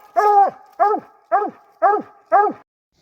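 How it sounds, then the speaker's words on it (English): Blue Dog barks five times in an even rhythm from the pens, each bark loud, close and slightly whiny, with short gaps of silence between. "We are coming to the pens to grab old Blue Dog"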